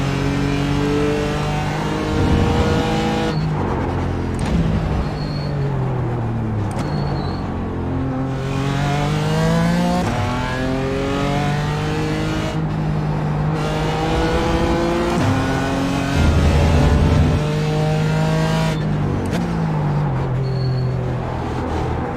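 A GT4 race car engine howls around Hockenheim in iRacing, revving up through repeated upshifts and dropping on downshifts, loud and close throughout.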